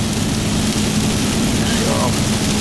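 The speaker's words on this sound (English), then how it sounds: "we've caught up to the rain" Rain falls steadily along a road, a constant dense hiss heard from inside a moving vehicle, with a low rumbling hum underneath and no break in the noise.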